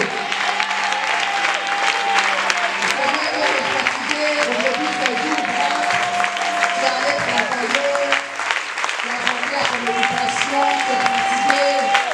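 A church congregation applauds and acclaims throughout, a steady dense wash of clapping and crowd voices with sustained tones of music or singing layered over it, loud and continuous with no pause.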